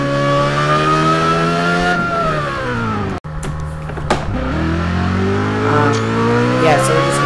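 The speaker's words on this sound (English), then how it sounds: "Yeah, so we're gonna go for a drive now." Engine of a car driven in the racing game Test Drive Unlimited 2, a steady loud drone that climbs in pitch, drops sharply after a brief cut, then rises again.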